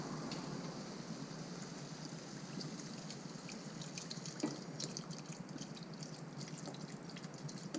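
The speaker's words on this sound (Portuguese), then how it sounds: "Agora a gente coloca só um pouquinho de água até cobrir." Water poured into a pot with watermelon rind, a faint steady trickling stream against low background noise.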